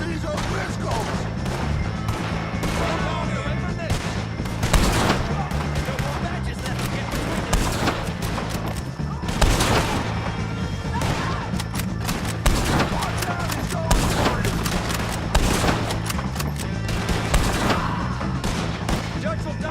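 Sustained gunfire from a Red Dead Redemption 2 shootout against the O'Driscolls: dense, continuous volleys of rifle and pistol shots with heavy booming impacts, loud and chaotic throughout, with voices shouting over the fight.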